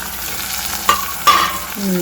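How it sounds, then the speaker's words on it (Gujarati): Tomatoes drop into onions frying in a pan, bringing a steady sizzle with two sharp stirring clanks and the scrape of a spoon, close and alone with no voices. "હવે આપણે એમાં થોડા ટમેટા એડ કરી દઈશું"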